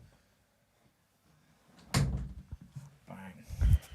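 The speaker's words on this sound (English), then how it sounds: "So, you're right to just push that door shut." A door is pushed shut indoors with a dull thump after near silence, followed by a second heavier knock and some shuffling handling noise, fairly faint overall.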